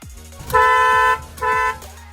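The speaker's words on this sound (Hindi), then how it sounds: "डुअल हॉर्न है।" Dual horn of a Kia Sonet X-Line sounding two close, loud honks, the first longer than the second, with no talk over them.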